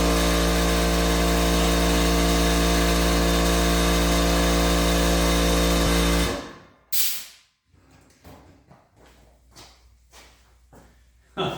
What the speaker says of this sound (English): nothing like getting scared to death by the air compressor kicking off